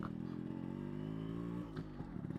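Yamaha RX 100 two-stroke motorcycle engine idling after starting, a steady low buzzing hum with a faint clatter near the end, moderately quiet and with no talk.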